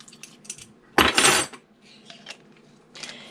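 Almond extract mixed into almond bar batter with a utensil, giving one loud burst of clinking and scraping against the bowl in the middle, with lighter taps before and after.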